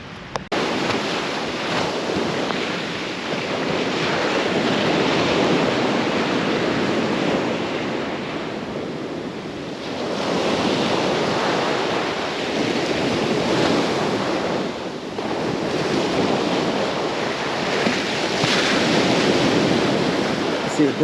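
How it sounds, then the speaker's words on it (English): Ocean surf rolls onto Panama City Beach, Florida in a steady, loud wash, swelling and easing in broad surges under constant wind buffeting the microphone. "Go check out some of the waves."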